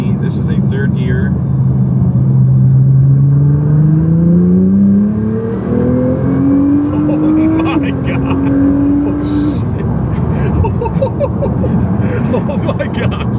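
Nissan GT-R pulling hard in third gear, its engine note climbing steadily and loudly from inside the cabin, then briefly dipping and rising again before easing off. Excited voices are heard over the engine.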